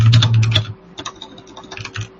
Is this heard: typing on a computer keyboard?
yes